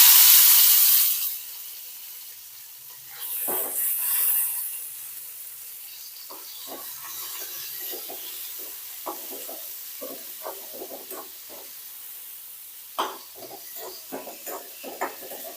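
Onion and tomato are roasted in a pan with a soft, close sizzle, a louder hiss at the start, then scattered light scraping and stirring clicks that grow more frequent toward the end.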